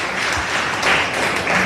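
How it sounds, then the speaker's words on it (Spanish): Church congregation clapping for the Lord during a Spanish-language sermon, a steady wash of dense, moderately loud applause with no speech over it. "denle un fuerte aplauso al Señor"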